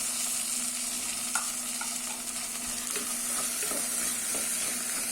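Carrot, beans, knol-khol and potato sauté in a pan with a steady quiet sizzle, punctuated by a few light stirring clicks and scrapes. There is no talking.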